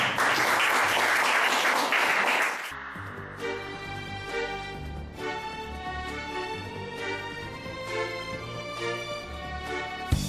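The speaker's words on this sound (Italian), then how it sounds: "Un applauso" An audience at an Italian televised music show bursts into loud applause for about three seconds, then the clapping cuts off as music takes over for the rest.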